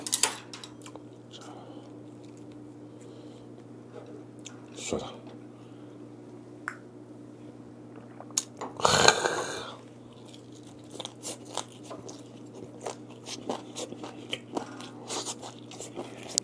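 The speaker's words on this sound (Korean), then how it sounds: "꼬시레이가 또 오독하니 맛있다" Close, wet chewing of gwamegi, Pohang dried saury, eaten with crunchy kkosiraegi seaweed, giving soft crunches and bites, with a few louder crunching bursts over a quiet steady background hum.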